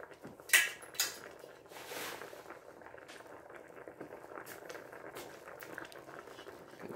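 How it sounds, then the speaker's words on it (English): Mustard greens dropped into a metal pot of seasoned ham hocks, starting with a couple of clanking knocks against the pot, then soft rustling and quiet simmering patter continuing faintly. "now we're going to go ahead and start putting our greens in"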